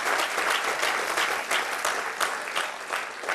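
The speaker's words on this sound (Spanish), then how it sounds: "Apláudale fuerte al Señor, se le va a aplaudir, por favor, porque Él se lo merece." Church congregation clapping together during a service, a loud, dense and continuous burst of applause filling the room for a few seconds.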